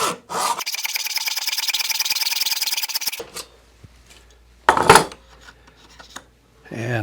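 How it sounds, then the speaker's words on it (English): A hacksaw cuts a metal file rail with about three seconds of rapid, harsh back-and-forth strokes, close and loud, followed by a few clanks and handling noises. "I grabbed this hacksaw"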